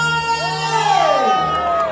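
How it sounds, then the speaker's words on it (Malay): A crowd at a political rally in Semporna whoops and cheers loudly for about two seconds, with shrill sweeping whistles rising and falling through the steady roar of voices. "Berikan tepukan yang paling gemuruh untuk Abang Majalania."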